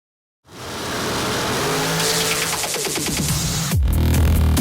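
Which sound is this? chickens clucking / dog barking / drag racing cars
drag racing cars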